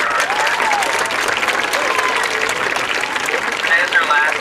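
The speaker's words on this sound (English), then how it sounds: "can we give Emily Johnson a round of applause for her?" An audience claps steadily at a grade-school band night, honoring a student teacher, with a continuous dense patter close by and voices and cheers mixed in over it.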